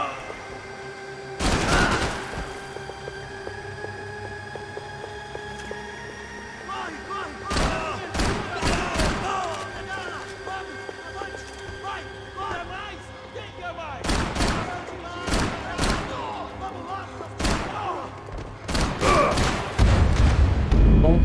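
Shotgun blasts in the Max Payne 3 video game, set during a police station assault: heavy booming shots come in separated bursts with a steady game soundtrack beneath and a voice talking over parts of it.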